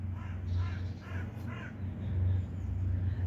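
A crow perched up in a tree gives a short run of about four rhythmic caws at moderate distance over a low, steady background hum.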